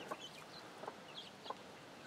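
Faint, soft clucks from a flock of chickens, including a Whiting True Blue rooster and Welsummer cockerels, come in three short bursts, fairly quiet against a low background.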